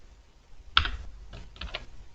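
A few quiet keystrokes on a computer keyboard while entering code, a sharp tap followed by two small clusters of clicks in an otherwise hushed room.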